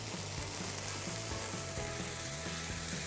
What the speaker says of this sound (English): I'm just going to add in 2 tins of chopped tomatoes